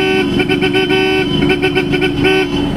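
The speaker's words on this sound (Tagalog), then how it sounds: "yung pinakabit ni sir na horn, which is Bosch Europa" A loud Bosch Europa horn on a Toyota Fortuner honks in a rapid series of blasts, some short and some held, close by and dominating the clip.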